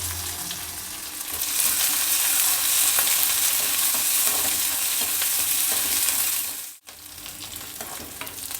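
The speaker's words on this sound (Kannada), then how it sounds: "ನೋಡಿ ಈರುಳ್ಳಿ ಮೆಣಸಿನ್ಕಾಯಿ ಎಲ್ಲ ಚೆನ್ನಾಗಿ ಫ್ರೈ ಆಗಿದೆ" Onion, green chillies, mustard seeds and curry leaves fry in oil, a loud continuous hiss and crackle that holds steady before cutting out abruptly and then resuming.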